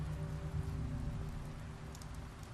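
Steady rain falling in the video game The Wolf Among Us, a constant soft hiss of drops on surfaces with low rumbling undertone, fairly quiet and uninterrupted, with no one talking.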